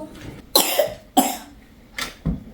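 A child with a cold coughs four times in separate bursts, two sharp ones close together early, then two more after a short pause, fairly near and loud.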